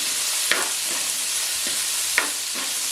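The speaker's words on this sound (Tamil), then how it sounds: "இது கூட இஞ்சி பூண்டையும் சேர்த்துக்கலாம் எண்ணெயும் சேர்த்து நல்லா எண்ணெயிலே வதக்கிக்கலாம்" Onion, ginger and garlic sautéing in oil for an eggplant kuzhambu, a dense steady sizzle close up, with a few light scrapes of the stirring spoon spaced irregularly through it.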